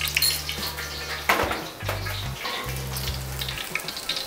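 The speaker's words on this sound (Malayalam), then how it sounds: "ഏകദേശം നമ്മൾ ഈ ഓയിൽ ചൂടായതിനു ശേഷം ഫ്ലെയിം ഒന്ന് കുറച്ച് വെച്ചതിന് ശേഷം പൊടിയായി അരിഞ്ഞിട്ടുള്ള ഇഞ്ചി" Finely chopped ginger frying in hot oil over a lowered flame, a steady close sizzle with brief utensil clinks and low hum breaking in and out.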